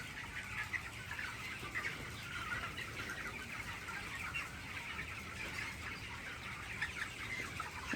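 A shed full of cross-bred poultry chickens on a farm gives a dense, steady clamour of clucking and chirping, with occasional wing flapping and no talking.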